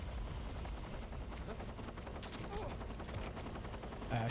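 Metal Gear Solid 3 gunfire crackles in rapid, uneven bursts over a busy, noisy game backdrop, moderately loud throughout.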